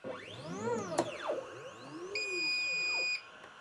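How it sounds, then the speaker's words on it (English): A Mecpow M1 compact laser engraver gives its safety alert when the cover is opened during framing: a steady high electronic beep lasting about a second, heard over sweeping tonal machine sounds and a short clack. "As you can see, it beeps."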